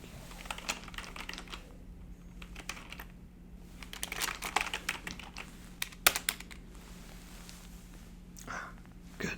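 Soft, close typing on a computer keyboard at a hotel check-in desk, bursts of quick key clicks with short pauses, quiet with faint background hum.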